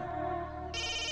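A mobile phone ringtone plays for an incoming call, a sustained electronic tone that turns brighter and louder partway through, with no one speaking.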